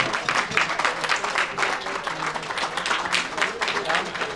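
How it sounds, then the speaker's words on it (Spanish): A crowd at a lecture applauds, with a dense patter of many hands clapping steadily throughout, heard at a moderate distance. "pido un aplauso para el padre Fierro"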